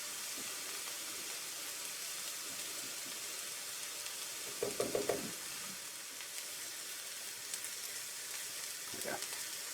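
Onions and mushrooms sizzle in a pan while caramelizing for a venison dish. A steady, quiet fry hiss runs throughout, with a few brief stirring clatters near the middle and again close to the end.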